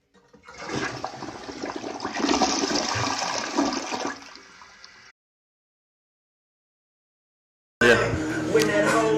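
A toilet flush rushes loudly for several seconds, then a short gap of silence before a voice begins speaking, as in a septic service radio advertisement.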